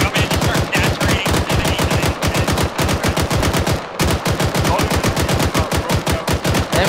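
Machine guns fired by AI gunners in the Arma 3 military game: loud, close, sustained automatic bursts with a rapid steady rhythm, broken only by a brief pause midway.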